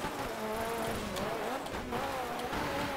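A rally car engine in the racing game Dirt 3 revs hard and steadily, a loud continuous whine rising and falling through gear changes, with no talk over it.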